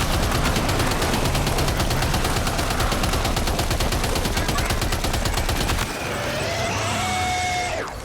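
Rapid automatic gunfire from a player's gun in the video game Death Stranding 2, loud and continuous bursts for about six seconds, then stopping abruptly into quieter electronic game tones and ambience.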